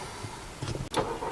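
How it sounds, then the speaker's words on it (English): A short, fairly quiet burst from an Audi TT as its engine cranks and catches, close by, with no talk over it. "So starting the car up"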